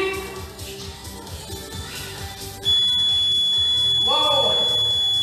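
Background music plays during circuit training, then a loud, continuous electronic workout timer beep starts partway through and holds steadily to the end, with a voice briefly calling out.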